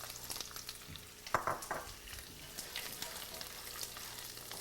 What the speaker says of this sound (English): saute the garlic and flavor the oil